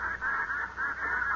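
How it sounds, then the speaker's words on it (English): Old-time radio sound effect of ducks on a lake: a short burst of rapid, nasal honking and quacking calls, fairly faint and with no voices over it. "when them ducks start flying over"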